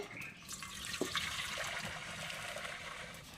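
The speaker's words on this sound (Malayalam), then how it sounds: "അപ്പോൾ നമ്മൾ ആദ്യ വെള്ളം മാറ്റേണ്ട സമയമായിട്ടുണ്ട്" Water drains and splashes steadily out of a pot of boiled tapioca, a continuous faint pouring sound with a brief metallic knock.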